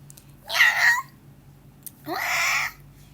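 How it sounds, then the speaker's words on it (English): Two cats meow one after the other, each a drawn-out, fairly loud cry with a short pause between them, over a quiet background hum. "Why are there so many cats everywhere?"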